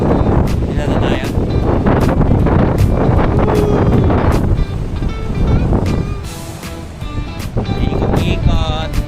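Strong southwest monsoon wind at a beach buffets the microphone in loud, gusty rushes, with a voice talking intermittently beneath the roar.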